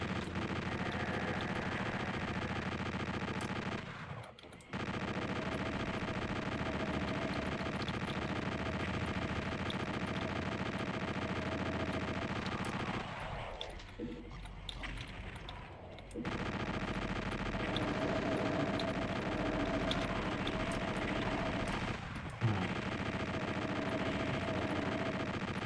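Chain gun firing in a video game set in Hell: a continuous, loud, rapid mechanical stream of shots lasting most of the time, broken by brief gaps, with heavy low rumble under it.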